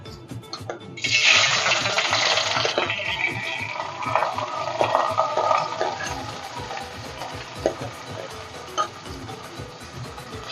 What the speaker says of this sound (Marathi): आणि तांदूळ व्यवस्थित तुपात परतून घेऊया।